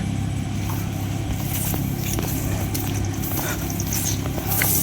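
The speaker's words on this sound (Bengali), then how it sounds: "গাড়ি ঘোড়া সব চলতেছে কি সুন্দর" Vehicles pass along a sunny village road in a steady, constant rumble of traffic with occasional scrapes and rattles, close and fairly loud, without talk.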